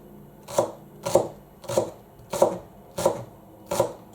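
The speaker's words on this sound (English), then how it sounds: "I'm going to start by chopping up the onions" A knife chops shallots on a cutting board for a mushroom risotto, six crisp, evenly spaced cuts at a steady, unhurried pace, close and clear, with no talking.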